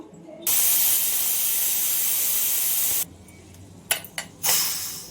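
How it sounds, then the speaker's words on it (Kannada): A pressure cooker with chicken kurma inside vents steam in a loud, steady hiss for a few seconds, then stops, followed by a couple of short clicks and a brief final burst of hiss. "ಸ್ಟೀಮ್ ಹೋಗಿದೆ."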